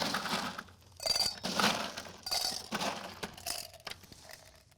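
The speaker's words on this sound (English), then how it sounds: "Put a little bit of ice right on top." Ice cubes are dropped into a glass over lychee eyeball garnishes for a Halloween swamp water punch, a few quiet clinks and crunches spread over several seconds, close by.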